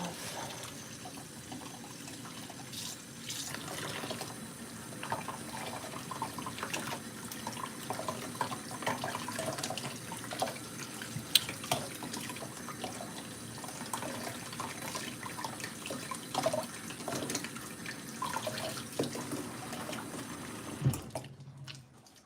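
Tap water runs steadily into a sink as a doll is rinsed under it, a continuous close splashing flow with faint drips, stopping abruptly near the end.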